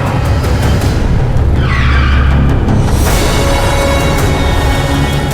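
A car brakes hard to a stop on a street, a loud continuous engine and road rumble joined by a short squealing tire skid in the middle, with traffic noise throughout.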